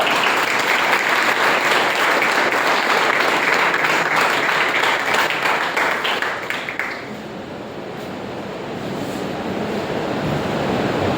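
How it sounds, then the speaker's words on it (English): Loud crowd applause at a speaking event rolls for about seven seconds with some distinct claps, then drops off into a soft, windy room noise. "let's have a huge round of applause for sir and for sir's father"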